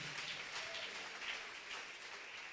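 A church congregation applauds, a faint, continuous patter of many hands heard from a distance with no clear breaks.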